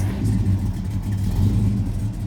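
A 1957 Chevy Bel Air engine with a newly installed exhaust system, including new downpipes, rumbles at a steady, loud, close idle with a deep throb throughout.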